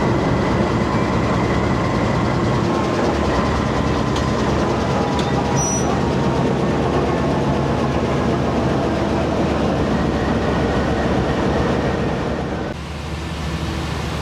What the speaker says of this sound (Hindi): तो लोकोमोटिव जुड़ गया रेक के साथ, अब प्रेशर बनेगा और फिर इंशाल्लाह ताला ट्रेन रवाना होगी।